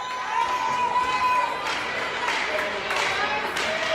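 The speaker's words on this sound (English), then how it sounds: "Cheering section back here going" Spectators at an outdoor youth hockey tournament cheer and clap in bursts, moderately distant and fairly quiet, mixed with crowd chatter.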